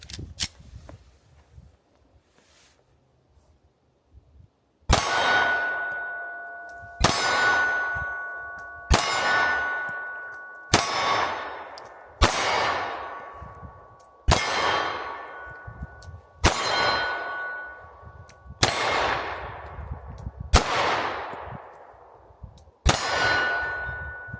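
Nine sharp shots from a GLOCK 43X pistol, each followed by a ringing clang as the round strikes a steel target, spaced about two seconds apart at close range with no talking.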